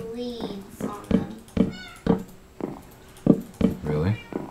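A cat in the Minecraft video game meows several times in short, repeated calls, mixed with people talking over it.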